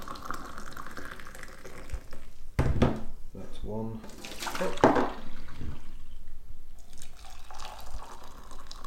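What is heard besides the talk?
water pouring from kettle into cup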